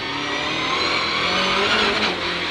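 A BMW M3 Rallye's two-litre four-cylinder engine revs hard on a circuit, a loud, close, sustained buzzing roar that climbs in pitch before easing slightly.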